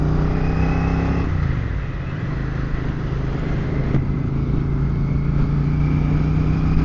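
A Royal Enfield Bear 650 motorcycle pulls away on a chilly winter country road, its engine drone dropping in pitch on a gear change, then settling into a steady, close, loud hum.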